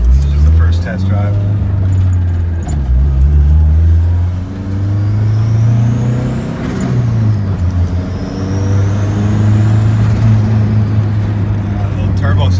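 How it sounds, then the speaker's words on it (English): A turbocharged Honda Civic hatchback on a first test drive at night, engine droning steadily and loud, pitch climbing through revs with a whistling turbo spool rising above it twice. "Little turbo sounds, boy."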